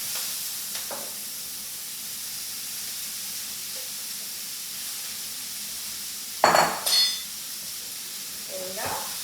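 Kimchi fried rice sizzles in a pan, a steady soft frying hiss with a couple of louder scraping bursts as it is stirred partway through.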